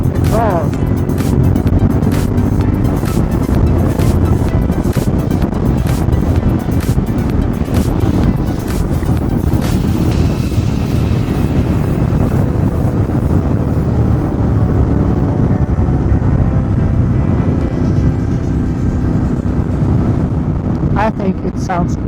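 Moto Guzzi Griso motorcycle with an aftermarket exhaust, its engine running loudly and steadily throughout with a dense low rumble and rising revs, no clear pauses.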